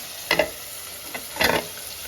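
Three kinds of small fish frying in a pan, a steady background sizzle broken by two louder bursts of scraping and stirring, close and without speech.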